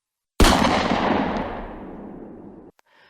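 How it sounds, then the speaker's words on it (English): A single loud, close gunshot cracks out sharply and then trails off in a long decaying echo over about two seconds, followed by silence and a faint brief rustle at the end, in a horror story setting. "Then the gunshot."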